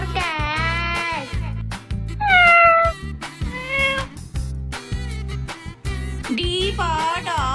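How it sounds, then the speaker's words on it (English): A cartoonish cat meows several times in a children's phonics alphabet song, with rising and falling mewing calls over a bouncy musical backing beat. "C for cat, C for cat."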